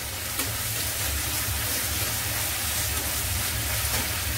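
Chow mein frying and being stirred in a pan, a constant loud close hiss of sizzling oil with soft low rumble beneath and faint stirring scrapes throughout.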